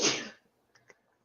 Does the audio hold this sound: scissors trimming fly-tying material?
no